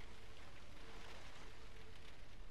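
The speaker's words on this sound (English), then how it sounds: "It's raining." Rain falling in The Last of Us, a continuous soft hiss of downpour with a faint steady tone underneath, evenly spread and fairly quiet, no talk.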